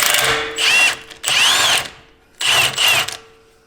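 A power tool fitted with a 21mm socket works on a Jeep JL Wrangler drag link, loud whirring bursts of rising and falling pitch in three runs separated by short pauses.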